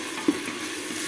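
Diced red meat sizzles in a hot pan with a soft, steady crackle and a brief stir or clink near the start.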